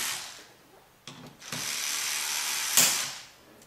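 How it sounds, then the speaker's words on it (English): CPU heatsink screws on an EX490 are unscrewed, giving close ratchety clicking in a few short bursts against a quiet background, no voices. "You'll hear the screws make a clipping noise as they come off like that."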